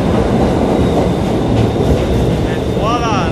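A New York City subway B train on the IND 8th Avenue Line in Manhattan rumbles loud and close with a steady roar of wheels on track, ending in a rising, wavering metallic squeal.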